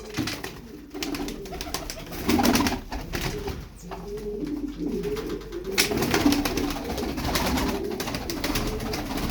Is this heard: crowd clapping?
no